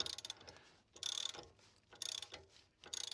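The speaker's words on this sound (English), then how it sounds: "So I'm not going to over tighten these" A ratchet wrench clicks as bolts are tightened on the anti-roll bar links of a Land Rover Defender. It sounds in four short, close bursts of rapid clicking, with quiet gaps between them.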